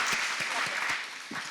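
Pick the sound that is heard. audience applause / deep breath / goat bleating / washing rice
audience applause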